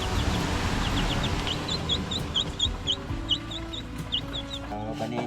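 Chicks peep and cheep in rapid high chirps close by, with clucking from a hen among them, over a muffled background of low rumble and soft movement.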